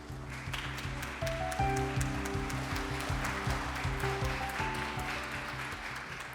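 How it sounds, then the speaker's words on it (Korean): An audience at a World Peace Day commemorative ceremony applauds to welcome a speaker to the stage: sustained, even clapping over a steady tonal hum, without talk. "여러분 여사님 나올 때 큰 박수로 환영해 주시기를 바랍니다."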